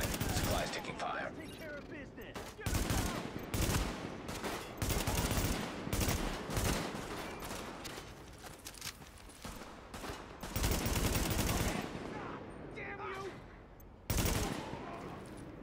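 Gunfire in a combat firefight from The Division video game, loud repeated bursts and volleys recurring throughout, with a game voice making brief announcements over the shooting.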